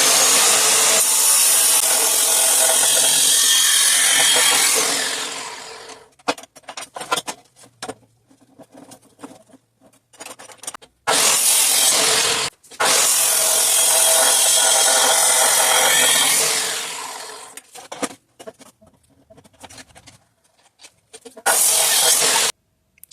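A power saw cuts a metal piece for a square-tube trailer support in two long, loud, steady passes, with shorter bursts of cutting and scattered shop clatter in the pauses between them.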